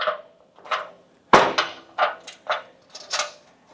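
Plastic and metal parts of a PAKMULE Scout cart section clunking as it is pushed down into place: one sharp knock followed by a series of lighter taps and rattles, close by, with no voices.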